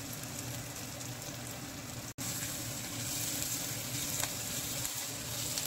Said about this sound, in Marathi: तेल गरम झालेला आहे, त्यामध्ये कांदा घातलेला आहे. कांदा भाजून घ्यायचा.